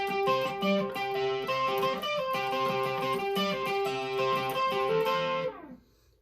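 Electric guitar chords ring out with a shimmering chorus effect, sustained notes strummed in a steady pattern before fading into silence at the end.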